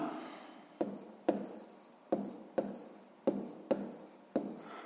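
A pen or pencil writes out a sixth-grade math exercise solution by hand in a series of about seven short, crisp scratching strokes, each starting sharply and then trailing off, close up with no talk.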